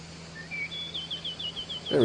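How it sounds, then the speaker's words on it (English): Melodic bird song from the indie video game Garden Life answers a played tune, a run of short rising whistled chirps that repeat steadily at moderate volume over a soft steady hum. "but you will hear the bird sing in response to the tune"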